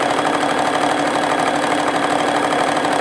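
A Juki HZL F300 sewing machine runs a straight stitch with a steady, close mechanical whir and fast rhythmic chatter that holds unbroken throughout, with no voices.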